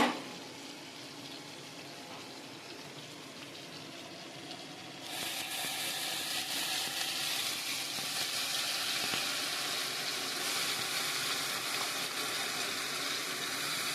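Crushed garlic sizzles in hot oil in a home kitchen, a steady close hiss that jumps louder about five seconds in and stays bright and crackling to the end, with no talking.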